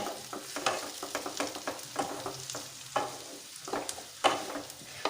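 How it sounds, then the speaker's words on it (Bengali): Tomatoes being stirred and fried in a pan for a dhaba-style egg tadka, with a steady close sizzle broken by repeated scraping strokes of a spoon, alone without talk. "টমেটো দিয়ে আপনারা 1 মিনিট মতন একটু জাস্ট নেড়ে চেড়ে নেবেন"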